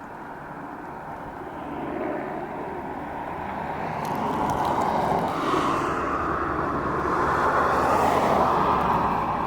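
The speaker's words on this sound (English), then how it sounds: "the helicopter's back with a water bucket." A firefighting helicopter carrying a water bucket passes over a wildfire near Jackson Hole, its engine and rotor roar building from a distant drone to a louder, sustained wash, with no talking.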